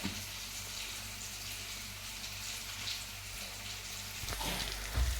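Soft, steady sizzle and bubbling of a curry for noolputtu simmering in a pan, faint and continuous with a light clatter near the end.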